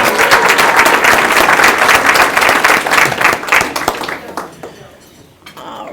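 An audience at a community action agency's annual meeting gives a loud, steady round of applause that gradually dies down, with a few dish clinks and voices heard as the room quiets.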